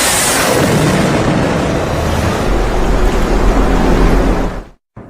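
Iranian gunboats on open sea produce a loud, continuous rushing roar of engines and churning water that holds steady, then cuts off abruptly near the end.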